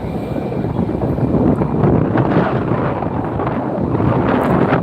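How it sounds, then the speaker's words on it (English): American Airlines Airbus A321 arriving from Charlotte at LAX, a loud close jet roar that swells and stays broad and rumbling, with wind buffeting the microphone. "Arrival coming in will be American Airlines 1502 coming in from Charlotte and Airbus 321"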